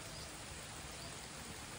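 Rain falls in a rural Marathi village beside a pond: a faint, even, continuous hiss with no distinct drops and no voices.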